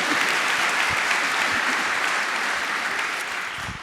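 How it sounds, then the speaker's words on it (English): Steady audience applause filling a political event hall, dense continuous clapping at a fairly loud level that eases slightly toward the end, with no speech over it. "We appreciate the applause"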